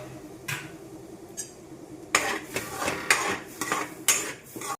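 Pasta is stirred in a metal pot, a spoon scraping and clinking against the sides in irregular bursts that grow busier and louder partway through, close up and without talk.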